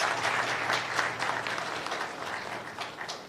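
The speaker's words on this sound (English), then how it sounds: "Let's give her a round of applause." An audience at a press briefing applauds a poet who has just recited, with dense, steady clapping from many people that fills the room without pause.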